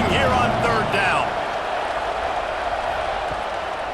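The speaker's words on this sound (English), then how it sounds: "This Boise State crowd bringing the noise. It's deafening here on third down." A Boise State football stadium crowd roars on third down, a loud, steady wash of noise from the stands that holds the whole time beneath a commentator's voice.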